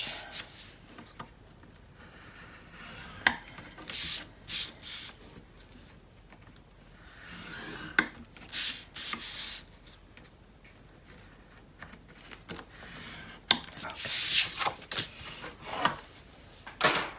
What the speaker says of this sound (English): So you're scoring both of the short edges and one long edge